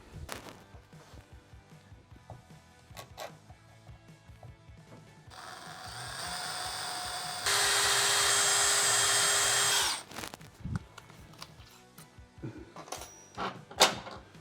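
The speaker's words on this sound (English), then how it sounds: "we'll go through and drill with a 3/8 drill bit." A power drill with a 3/8-inch bit whirs for a few seconds while drilling through a Toyota Tacoma truck bed, then a louder, steadier drilling burst, surrounded by quieter clanking and handling noises.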